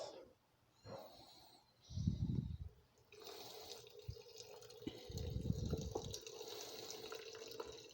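Hot coffee poured in a steady stream in the Costa Rican style, with faint liquid splashing and trickling in a few bursts, quiet and close, with no talking.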